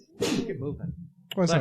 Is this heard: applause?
no